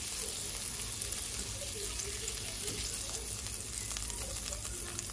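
Onions and garlic fry with shrimp in a coconut curry, giving a steady, close sizzle with soft crackles running evenly throughout, no voices over it.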